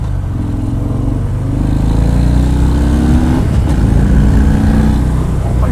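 A 2019 Harley-Davidson FXDR 114 V-twin engine rumbles and revs nearby, a steady low throbbing drone with rising pitch as it accelerates and a brief surge midway, with no talk over it.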